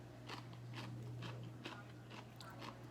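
Crunchy Korean pickled radish, sweet and tangy, is chewed in close, quiet bites, with about half a dozen crisp crunches spaced roughly every half second.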